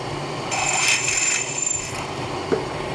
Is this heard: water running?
no